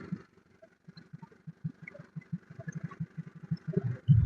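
A Hyundai i10 car engine idles with a quiet, steady rhythmic pulse of low chugging beats, heard close up without talking and rising to a louder rumble at the very end.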